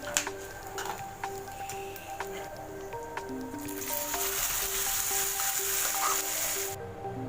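Grated coconut and curry leaves frying in a pan for Kerala kaya erissery, a steady soft sizzle with small crackles and pops that thickens and grows louder partway through, no voices.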